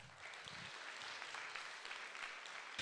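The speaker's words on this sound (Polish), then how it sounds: "Ogromne brawa dla wszystkich Państwa." Audience applause at a Polish awards ceremony honouring business patrons, sponsors and prize funders: dense, steady clapping filling the room at an even level throughout, with no voices over it.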